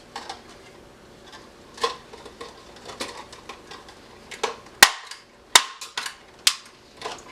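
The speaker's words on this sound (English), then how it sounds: "You just staple them together the same way you've done all the others." A desk stapler fastening paper cups together gives several sharp, loud clicks and snaps, spaced irregularly over a quiet room background with no talking.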